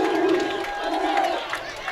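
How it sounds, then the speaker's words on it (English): A high school football crowd at Strasburg roars and cheers in a steady, dense wash of voices from the stands, filling the whole moment without a break. "67 yards for Parker Edwards, and it re-energizes this Strasburg crowd, puts them up back by 8 again."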